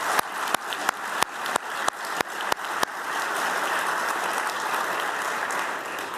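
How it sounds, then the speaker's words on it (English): Applause for award winners at a corporate excellence ceremony opens with a series of sharp, evenly spaced thuds, then swells into a full, sustained round of clapping from a large audience. "So please join me for one last round of applause for the 6 winners."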